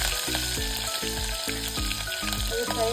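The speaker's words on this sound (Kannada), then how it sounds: "ಸಾಸಿವೆ, ಜೀರಿಗೆ ಹಾಕಬೇಕು. ಅದು ಚಟಪಟ ಅಂತ ಸಿಡಿಬೇಕು." Mustard seeds, cumin and green chillies spluttering in hot oil: a continuous close crackling sizzle with a steady tonal pattern running underneath.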